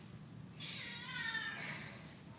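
An elderly cat, nearly 19 years old, gives a single faint, drawn-out meow indoors, rising and falling over about a second against quiet room noise.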